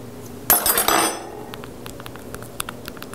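A metal four-tined fork, sold as the Amazing 4-Tined Food Stabber, clatters loudly against a hard surface at first, then gives a few light scattered clinks and taps that fade off.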